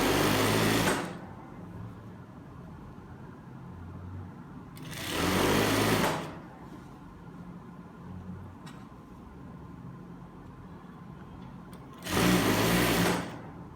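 Sewing machine stitching elastic-waist trousers with pockets, in three loud bursts of fast whirring, each lasting about one to two seconds, separated by quiet pauses.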